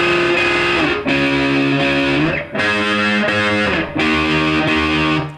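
A distorted electric guitar plays the intro of a song with a thick, driving sustained tone, shifting chords every second or so with short dips between them, loud and alone.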